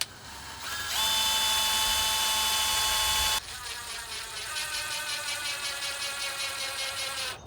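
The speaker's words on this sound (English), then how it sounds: "I'm going to drill a pilot hole and then drive a screw in." A power drill whines as it drives a screw into a wooden patio table joint, a sustained rising motor tone, then a brief pause and a lower pulsing ratchety whir as the screw bites in.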